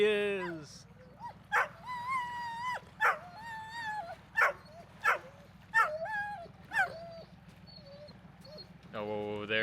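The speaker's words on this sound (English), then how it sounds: "That wouldn't be my dog, would it?" An excited dog whimpers and gives high yelping barks in a repeated series of rising whines and yips as it greets its owner at an off-grid homestead, with a person talking softly underneath.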